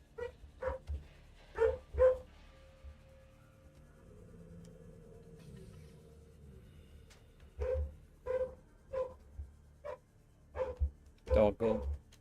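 A dog barks in sharp, separate bursts, a few near the start and a longer run near the end, fairly close, with a quiet stretch in between.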